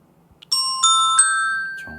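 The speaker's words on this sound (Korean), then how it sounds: "딩동댕 하면서 정답입니다 나오고요." A bright three-note electronic ding-dong-dang chime signalling a correct answer in an Entry coding quiz program rings out clearly, with tones overlapping and sustaining into a short ring.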